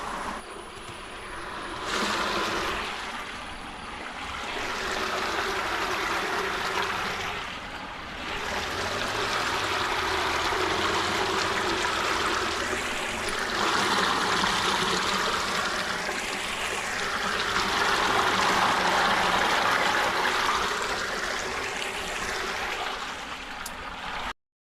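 Water runs steadily through a small channel in a farm field, a continuous close rushing and gurgling wash that swells and eases slightly over time, with no voices.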